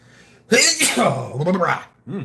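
A single loud sneeze bursts out after a short breathy buildup, close to the listener, followed by a brief vocal sound.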